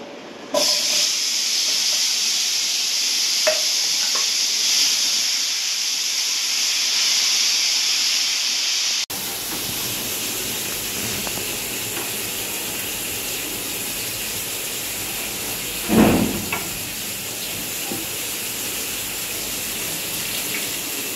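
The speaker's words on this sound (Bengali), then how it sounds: "একসঙ্গে মশলার সঙ্গে" Fish sizzles in a pan with nigella seeds, turmeric and salt, giving a steady frying hiss that runs throughout with a few small pops, close and fairly constant.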